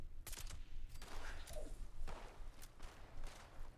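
Enemies shoot guns in Fallout 76, a rapid scatter of sharp cracking shots in quick bursts, fairly distant and moderately quiet, with a dull thump among them.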